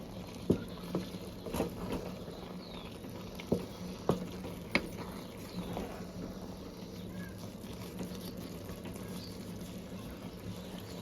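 Foxtail millet upma with dry fruits being stirred in a pan, a faint soft patter and scrape with a few sharper spoon taps against the pan early on, quiet and close.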